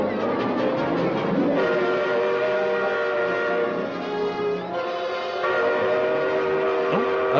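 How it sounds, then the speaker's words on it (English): A steam train whistle sounding as a prison alarm in an old film, a long sustained multi-tone wail that dips briefly midway and swells again, loud and continuous. "I was going to say, that was a train whistle."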